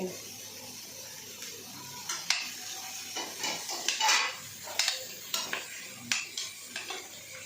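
A spoon stirs carrot, beans and drumstick in a pot, giving a string of light scraping clinks that grow busier after a quiet start, near and soft over a faint background hiss.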